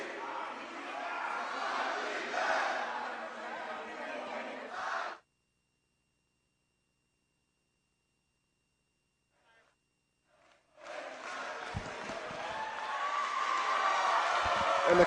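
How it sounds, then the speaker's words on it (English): A high school student section cheers across the gym at a volleyball game between Las Lomas and Maria Carrillo. Loud sustained crowd roar gives way to near silence, then the cheering swells back up even louder. "the crowd's starting to get into it now here, the student section on the other side of the gym"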